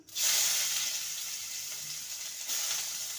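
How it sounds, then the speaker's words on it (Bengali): Chopped onions hit hot oil with frying cumin seeds and set off a loud, sudden sizzle. The hiss stays strong and steady, with a brief fresh surge near the end. "ফোড়নটা ভাজা হয়ে গেছে এবার দিয়ে দেবো পেঁয়াজ কুচি"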